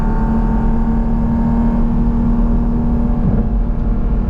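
A Porsche GT4 RS flat-six droning loudly and steadily from close by, a sustained low engine roar with a slight rise in pitch toward the end as it blips through a downshift.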